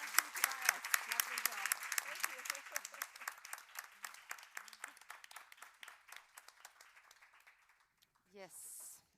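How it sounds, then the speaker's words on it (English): Audience at a panel discussion on neonatal research claps steadily, a dense burst of applause that gradually thins and fades, with a voice speaking over it toward the end. "But first, a big applaud."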